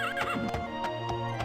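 A horse in The Elder Scrolls Daggerfall gives a loud, wavering whinny, then rhythmic hoof clip-clops follow, all close and clear with a steady game hum underneath.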